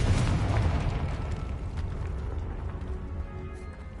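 A Confringo spell in Hogwarts Legacy bursts as a dense rumbling blast that starts strongest and slowly decays into a sustained noisy roar over a few seconds.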